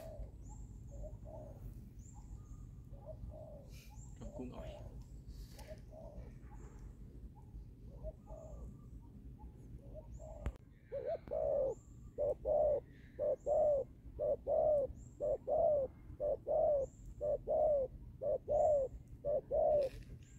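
Spotted doves coo outdoors in a steady repeating rhythm, faint at first over a low background hum, then louder and closer with regular evenly spaced coos.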